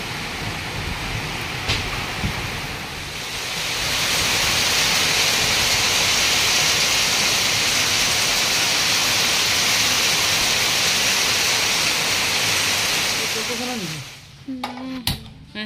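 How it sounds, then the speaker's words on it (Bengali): Heavy rain in a storm roars steadily and loudly, building to a thick wash of noise before easing near the end, where a few brief voice-like sounds break in. "এখন তো জোর আসবে বৃষ্টি"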